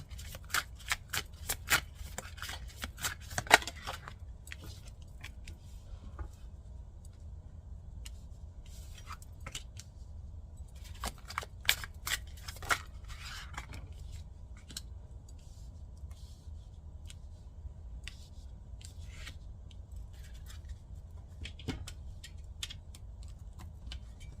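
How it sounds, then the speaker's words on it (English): Tarot cards laid out one by one on a table, giving sharp dry snaps and slaps in clustered bursts with quiet gaps between, close up and with no talking. "I'm going to lay the cards out and then I'm going to start talking"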